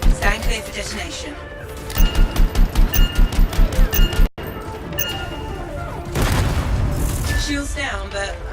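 Explosives detonate in the video game Anthem: a rapid string of about ten sharp booms, then a heavy blast and rumbling debris, loud and close amid game effects.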